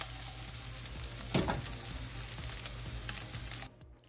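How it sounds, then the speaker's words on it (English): Chickpeas roast in a hot pan, giving a steady close sizzle and frying crackle with a brief louder stir and clatter partway through before the sound cuts off. "let's add those chickpeas to the hot pan and roast them a little"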